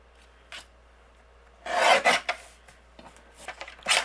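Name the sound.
trimming teal cardstock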